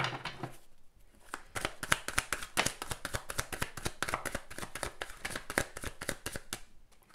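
Tarot cards being shuffled and dealt onto a surface, a rapid run of crisp flicks and light slaps in an uneven rhythm, close and fairly quiet, with no voices.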